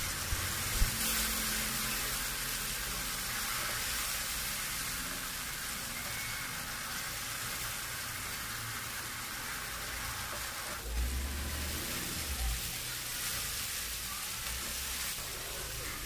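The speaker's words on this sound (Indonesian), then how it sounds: "Kita tumis sampai bumbunya matang dan tidak bau langu ya." Spice paste with kaffir lime leaves sautéing in oil: a steady, even sizzle crackling throughout with a faint tap early on and soft low thumps of stirring near the end.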